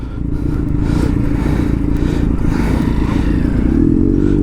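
A motorcycle ridden on a road near a long traffic jam on the way back from Mukteshwar gives a steady, close engine rumble mixed with road and wind noise. It holds an even level throughout, with no talking.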